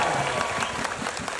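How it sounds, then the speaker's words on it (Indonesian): Audience applause at an Indonesian stand-up comedy show, a steady dense wash of clapping from the crowd filling the whole short moment. "Coba tepuk tangan."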